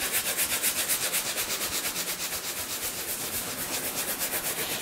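A brush scrubs cleaning foam into a leather sofa in steady, rapid back-and-forth strokes, a close, even rhythmic rubbing that continues throughout with no talking.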